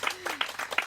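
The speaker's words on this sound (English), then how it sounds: "All right, clap for them." Brief burst of audience clapping at a live podcast recording, scattered and moderate, with some voices mixed in over about a second.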